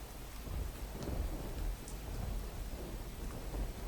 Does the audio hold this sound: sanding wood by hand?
no